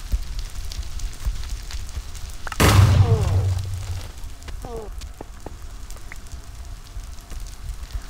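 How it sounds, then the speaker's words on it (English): A big explosion in the Minecraft video game erupts as a sudden loud boom with a crackling rumble that trails off, set against continuous game noise and scattered small pops. "that's a big explosion"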